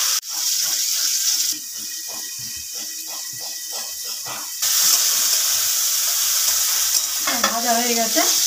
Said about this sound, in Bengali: গাজরগুলো আমি হালকা করে ভেজে নেব।